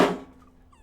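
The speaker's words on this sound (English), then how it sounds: "that was the sound of my guest's microphone just dropped." A guest's microphone drops at the start of a podcast, one loud thunk with a quickly decaying rumble, followed by quiet room tone.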